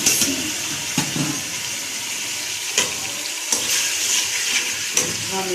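Chopped onion frying in about half a cup of oil for kadhi pakora, giving a steady, close sizzling hiss with a few sharp clinks and stirring knocks scattered throughout.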